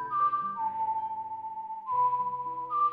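A lullaby is whistled in the Ocarina of Time PC port Ship of Harkinian, a slow, clear melody of sustained notes over soft game accompaniment, heard alone without talking.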